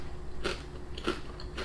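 Three sharp crunchy bites into flame grilled Aberdeen Angus flavoured crisps, close and crisp, spaced about half a second apart over a quiet background.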